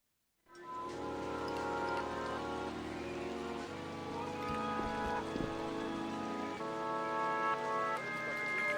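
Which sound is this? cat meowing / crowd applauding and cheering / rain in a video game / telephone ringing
rain in a video game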